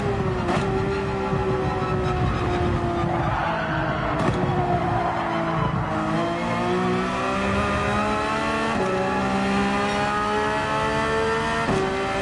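Race car in Gran Turismo 7 on the Dragon's Trail circuit, its engine loudly climbing in pitch and dropping at several gear shifts, with faint tire squeal underneath.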